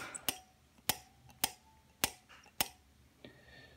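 A Ford Model T ignition coil double firing on an Arduino-based coil tester gives five sharp, crisp snaps at roughly even intervals, each a brief loud crack with a faint buzz between, heard alone.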